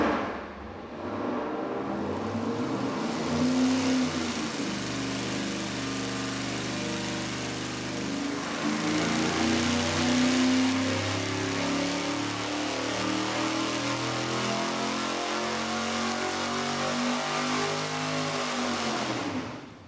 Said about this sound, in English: we're gonna fire it up and give you the baseline with our single 4-barrel and Victor Jr.